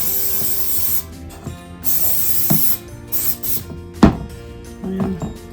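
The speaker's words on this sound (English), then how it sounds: "So I'm gonna use this spray adhesive." Spray adhesive hissing from an aerosol can in several short bursts of about a second each, close and fairly loud, separated by quieter handling clicks and rustles.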